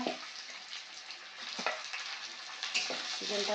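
Chicken pieces sizzle in a pan of fried onions and whole spices for Bengali chicken kosha, a continuous close crackle with a few scraping stirs and clinks, no talk.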